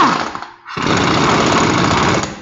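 A power tool whirs steadily as wheel nuts are tightened during a tire rotation, starting after a short gap, loud and close, with a continuous buzzing drone.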